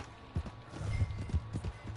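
Horse hooves clip-clop in Red Dead Redemption 2, several uneven footfalls at moderate distance over a low ambient game background, with no talk.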